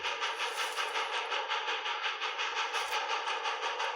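An Australian BHP iron ore freight train rolls by with a steady, loud broadband rumble and a faint rhythmic clatter of wagons over the rails, no voices.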